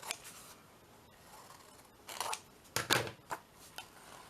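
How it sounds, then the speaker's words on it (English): Scissors snip the corners off magnetic note pads, a few quick crisp cuts close by at the end, with light paper rustling before them and no talk. "Let's just cut these little corners off."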